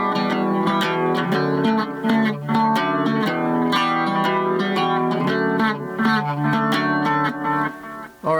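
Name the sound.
three-string cigar box guitar strumming a rhythm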